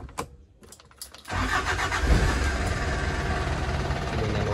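A 2300 cc Isuzu Panther engine catches after a few quiet clicks and settles into a loud, steady idle that runs on without a break, heard close up.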